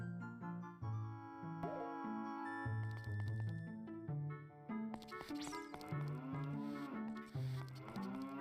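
Synthesized cow moos from Zelda: Ocarina of Time 3D on the Nintendo 3DS, several drawn-out lowing calls in succession, close and clear over game music, each moo sliding in pitch.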